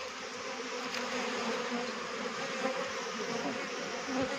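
Carnica Steppe honey bees swarm around their hives, making a dense, steady buzz that stays close and loud for the whole stretch, with no voices over it.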